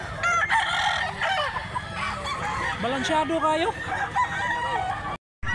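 Gamefowl roosters at a Filipino farm selling yard crow loudly and repeatedly, with clucking between the calls, while people talk over them close by.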